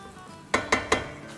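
Chicken tikka pieces pressed face down into a hot pan hiss and sizzle in three sharp bursts spaced about a fifth of a second apart, each flaring up and dying back over a low, steady frying crackle.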